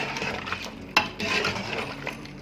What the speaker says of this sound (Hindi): इसको मिक्स करेंगे अच्छे तरीके से। 5 मिनट तक इसकी भुनाई करेंगे